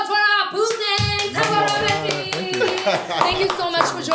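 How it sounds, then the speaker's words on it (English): Hands clap together in steady applause at the close of a talk show while people keep talking over it. "a round of applause for our boosters"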